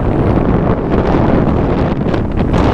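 Steady wind blows by the water on a hill trip toward Kolli Hills, a loud continuous rumbling buffet with no clear gusts or pauses, alone with no talk.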